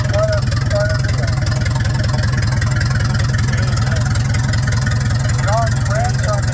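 Antique tractor with a hot-head engine running in a museum parade of old gas and steam engines, a steady low rhythmic chugging throughout while someone talks over it.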